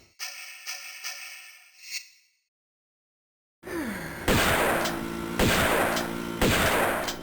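Gunfire from the video game Tomb Raider II: a cluster of sharp in-game shots, then silence, then a louder burst of four heavy blasts over a noisy background.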